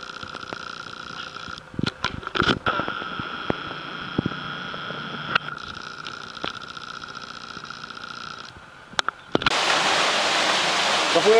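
Rushing water from a stream near Santa Coloma de Farners, a steady broadband wash broken by clicks and handling knocks, swelling much louder and closer near the end.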